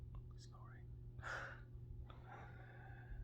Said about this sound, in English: that's the dog snoring.